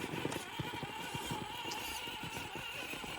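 A Gmade 1904 MT RC rock crawler on 1.9-inch tyres climbs an obstacle, its small electric motor whining steadily with faint scrabbling and clicking from the tyres and chassis, low in level and without talk.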